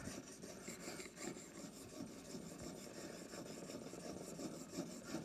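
A wooden jack plane's steel blade honed on a well-worn 1200-grit plate, giving a steady, fairly quiet rasping scrape of repeated strokes with no talk.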